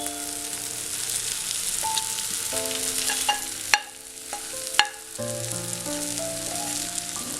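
Cooked mushrooms and tomato sizzling in a pan, a steady frying hiss broken by two sharp spoon clanks during stirring, with faint music underneath.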